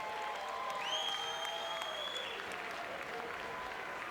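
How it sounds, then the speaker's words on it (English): Steady crowd applause, dense and sustained clapping throughout, with a few faint whistles rising above it. "let's give both of these fighters a big round of applause"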